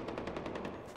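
AK-47 automatic gunfire in a Far Cry 4 game, a rapid, even burst of shots in quick succession, loud and close with no talking over it.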